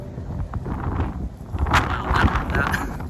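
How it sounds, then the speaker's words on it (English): Gusty wind buffets the microphone in rough, uneven rushes, a continuous roar with stronger blasts in the middle. "wow, it's windy."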